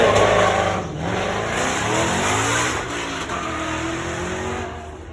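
A car passes close by at a drive-by event, its engine loud and revving, with rising tones that drop and start climbing again as it shifts into second gear, then a steady roar that slowly fades.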